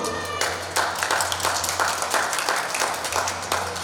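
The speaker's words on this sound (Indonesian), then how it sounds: "Saya boleh minta tepuk tangannya dulu." Audience applause at an Indonesian Ramadan takjil cooking demonstration, a broad, steady wash of many hands clapping for about four seconds with no talking over it.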